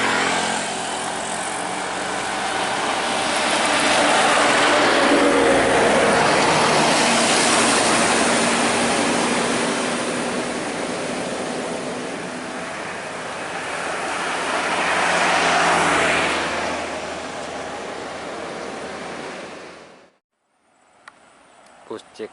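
A CKJ Cahaya Kemberjaya intercity bus on the Medan–Pekanbaru route passes a roadside spotter. A loud, broad rushing roar swells over about twenty seconds, surges again near the end, then cuts off abruptly.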